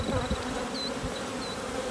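Honey bees buzz steadily around an open hive during an inspection, a close, continuous agitated drone with a few higher whines of individual bees passing near.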